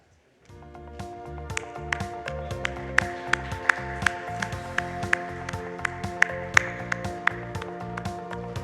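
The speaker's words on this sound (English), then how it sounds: "I think we could do better with the clapping" Audience clapping at a felicitation ceremony where bouquets are handed to honorees, a steady wash of applause with sharp individual claps standing out over a sustained musical tone, continuing throughout.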